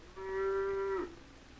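A single long, steady moo from beef cattle at a county fair, clear and close with quiet surroundings.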